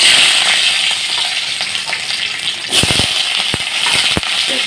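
Garlic cloves, thick-cut onion and ginger sizzle steadily in hot mustard oil, a dense close hiss broken by a few sharp clinks and stirring knocks.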